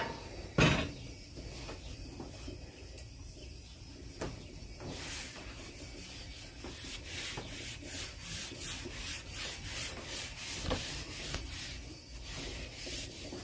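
Oil being rubbed over the surface of a Blackstone grill to season it, including around the edges. A continuous close scrubbing and rubbing hiss with soft bumps and strokes throughout, steady and unbroken, no talking.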